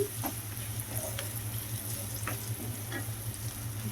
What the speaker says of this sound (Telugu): మగ్గి చక్కగా వేగిపోయి గోల్డెన్ కలర్ వచ్చేంత వరకు వేయించుకుందామండి